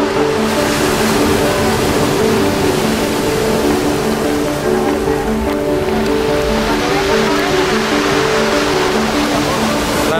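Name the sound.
sea waves on the beach at Barranco, Lima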